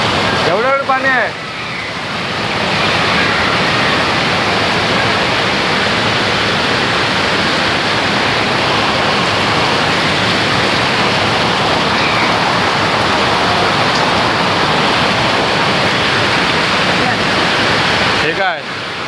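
Heavy rain and rushing water give a loud, continuous roar that stays constant for most of the clip, with brief voices at the start and end.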